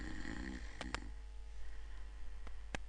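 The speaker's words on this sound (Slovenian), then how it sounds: "Od kdaj pa babica tako smrči?" A wolf snores while lying on the floor in a Little Red Riding Hood fairy tale: a faint, low rumbling drone that runs steadily, broken by a few sharp clicks.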